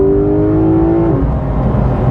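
Porsche 911 GT3 RS 991.2 engine heard loud and close from inside the car, a high rising tone that holds briefly, then drops off as the revs fall away.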